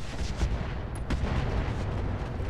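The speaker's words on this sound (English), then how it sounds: "Oh, the explosions are so beautiful." Buildings blown apart in the mech combat game Roguetech: a dense, continuous roar of layered booms and rumbling blasts, loud and heavy in the low end, with a sharp crack near the middle.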